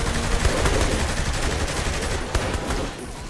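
Sustained, dense minigun fire in the Saints Row III video game, a loud continuous rattle of rapid shots throughout with a brief louder burst near the end and no talking.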